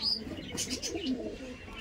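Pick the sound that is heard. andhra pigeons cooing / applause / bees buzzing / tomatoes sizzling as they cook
andhra pigeons cooing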